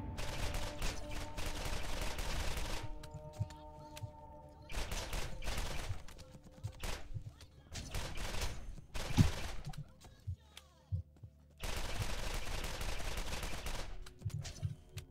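Turrets firing in a modded Borderlands playthrough, sustained bursts of loud rapid gunfire in several long stretches separated by brief lulls, with no talking.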